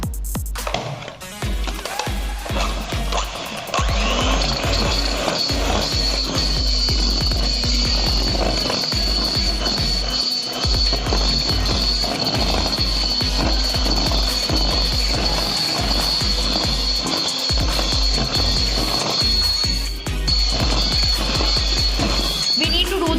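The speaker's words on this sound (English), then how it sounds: "Yes, I'm going to blend it with my beater now." An electric hand beater whirs continuously through biscuit batter for crunchy biscuit cups, a steady high motor whine over a low hum with rattling, scraping clatter from the beaters in the bowl, close and loud throughout.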